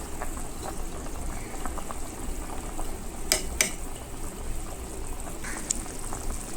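Sorrel leaf chicken curry bubbling in a covered pot, a continuous soft simmering hiss with scattered small pops and a couple of sharp metallic clinks partway through.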